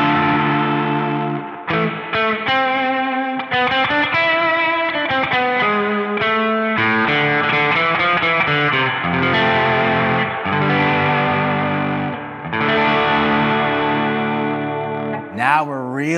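An overdriven electric guitar runs through a reverb and echo effect for a twangy spaghetti western tone, ringing sustained melodic notes and chords with no talk, ending in a brief wavering swell.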